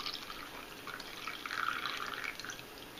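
Hot water poured from a kettle splashes steadily into a container, a soft continuous trickling and splashing close by, with no voices.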